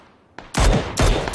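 A few sharp, loud gunshots from the battle royale game PUBG, Battlegrounds, cracking out in quick succession at close range.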